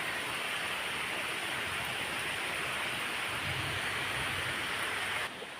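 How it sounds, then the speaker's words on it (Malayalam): Steady, dense heavy rain pours down without a break during a dark thunderstorm, a loud continuous hiss that eases off slightly at the very end. "ഇതാ നല്ല മഴയുണ്ട്"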